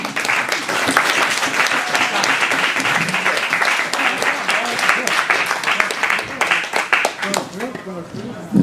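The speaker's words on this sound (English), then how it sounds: "Big round of applause for Marquis." An audience at a comedy night gives a big round of applause for a performer, loud continuous clapping that holds steady and then thins into scattered claps near the end.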